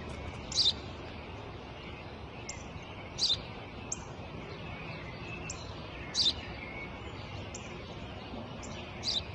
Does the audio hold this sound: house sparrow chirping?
yes